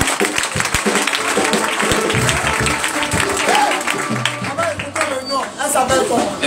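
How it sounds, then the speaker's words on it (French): A church congregation breaks into sustained applause and clapping, loud and close, mixed with crowd voices and music during a celebration for a newborn girl. "On acclame Jésus."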